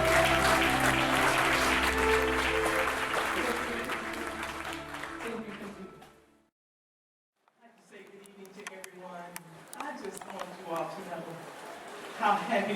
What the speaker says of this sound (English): just give her a wonderful round of applause